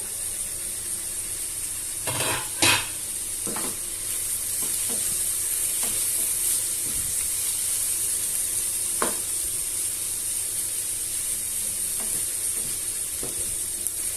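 Cabbage and capsicum frying in a pan with salt for veg fried rice, a steady close sizzle running throughout with a few sharp stirring clatters and scrapes near the start and scattered later.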